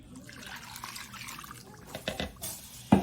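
Vinegar pours into a pot already holding sugar for banana pepper mustard, a brief close trickle and splash that ends in a sharper splash.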